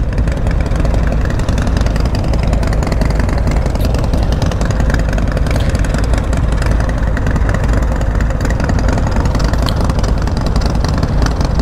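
A Harley-Davidson Street Bob motorcycle engine runs steadily with a dense, loud low rumble that holds constant throughout, close by and without any talk.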